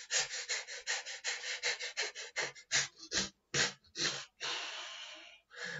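Rapid, shallow breathing demonstrated by a person showing how someone angry breathes: a quick run of short, sharp breaths that slows into a few longer ones, close and clear with no talk.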